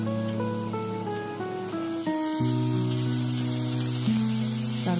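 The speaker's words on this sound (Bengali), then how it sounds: "একটু আলুটা একটু তেলের মধ্যে একটু ফ্রাই হয়ে যায়" Potatoes frying in hot oil give a steady, soft hiss that runs under louder background music with sustained tones, continuous for the whole stretch.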